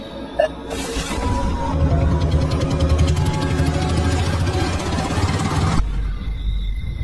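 A motorbike engine idles loudly and steadily nearby, a continuous throbbing rumble that cuts off abruptly near the end.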